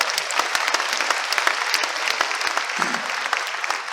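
An audience at a convention claps steadily in a dense, continuous round of applause, with a few faint crowd voices mixed in.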